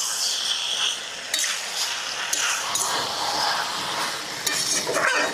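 Jackfruit being stirred and sautéed with spices in a pan: a steady sizzle with a spatula scraping and clinking against the metal now and then.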